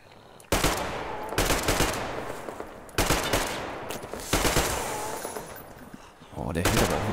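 Gunfire aimed at a monster in Metro Exodus: loud bursts of rapid automatic shots in several volleys separated by short pauses, close and harsh, with a voice speaking between and under the bursts.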